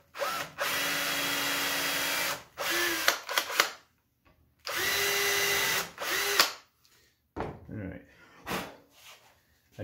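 A power drill whirs in several bursts while drilling a hole in a door for a full mortise lock, starting and stopping with short pauses and clunks of tool handling between runs, close to the microphone.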